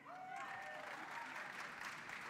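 An audience applauding at a Black Caucus event, sustained, dense clapping that fills the whole span at an even level, with a voice faintly audible over it.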